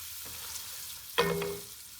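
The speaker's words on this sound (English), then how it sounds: "When that Tasso ham browning in butter, then you add those onions and garlic." Tasso ham, onions and garlic sizzle in butter in a home kitchen pan. A low frying hiss holds steady, then a brief clatter sets off a louder burst of sizzling that settles back down.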